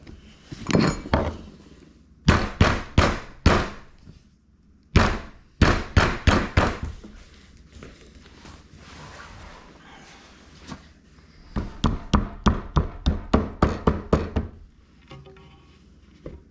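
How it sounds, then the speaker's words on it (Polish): Bursts of sharp hammer knocks on wood during a camper build, in quick runs, several groups of four to eight hits with pauses between, close by. "To tym młotkiem."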